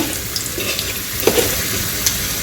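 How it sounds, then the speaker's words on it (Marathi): Onion fries in a pan over a medium flame for a chutney, giving a dense, steady sizzle close by with a couple of brief stirring knocks, no voices. "कांदा टाकून घ्यायचा आहे याला छान परतून घ्यायचं आहे"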